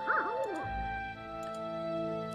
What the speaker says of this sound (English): The music's not in sync with the dogs howling